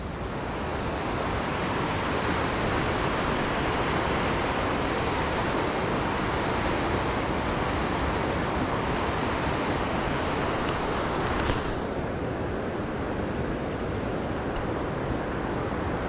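Water cascading down a bank at a campsite, a loud, continuous broadband rush with no pauses, slightly duller and quieter toward the end.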